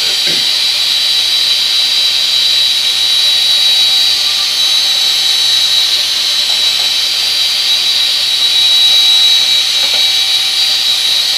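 A drill fitted with a mixing paddle stirs granite countertop coating product in a bucket, giving a steady, loud, high-pitched whirring hiss that holds unbroken throughout, with no speech.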